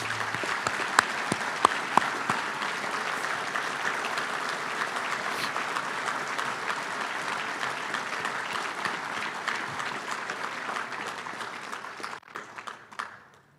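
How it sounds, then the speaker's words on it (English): A crowd at an awards dinner claps in a sustained round of applause, dense and steady, tapering off near the end. "please join me in a round of applause."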